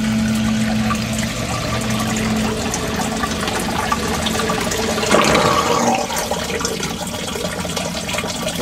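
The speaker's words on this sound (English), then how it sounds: "you hear the pump kick on right away" A sump pump runs and pumps water out of its pit, giving a steady whirring drone with rushing, gurgling water and a brief louder surge near the middle.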